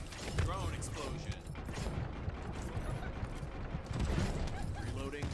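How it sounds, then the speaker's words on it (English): Weapon reloading in the looter-shooter video game The First Descendant: quick mechanical clicks and ratcheting clacks close up, mixed with bursts of gunfire, game effects and muffled voices. "Reloading."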